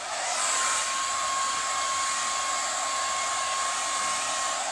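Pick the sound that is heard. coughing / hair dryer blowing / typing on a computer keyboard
hair dryer blowing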